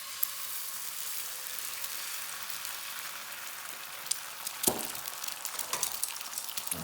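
An egg fries in a pan beside bacon, giving a steady, soft crackling sizzle with a few sharper pops and spits near the end, fairly quiet and close, with no talking.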